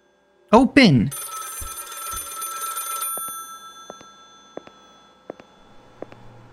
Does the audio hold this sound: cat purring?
no